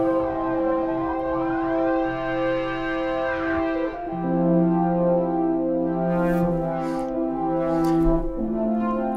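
A Fender Rhodes-style electric piano sound played in a looping setup gives sustained, ringing chords with sweeping, pitch-bending effects and chorus-like shimmer, fairly loud and without talking.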